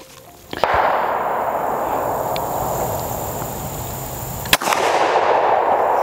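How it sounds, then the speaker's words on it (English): A 12 gauge shotgun fires a high brass slug in two sharp, loud blasts with a metallic clang, each followed by a sustained ringing rumble. "I've got one more high brass here. Let's go ahead and take another shot with them."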